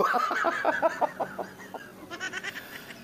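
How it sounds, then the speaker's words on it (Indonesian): A goat near its pen gives a long, wavering, rhythmic bleat that rises and falls, followed by a softer stuttering bleat, close and fairly clear. "Kandang kambingnya situ"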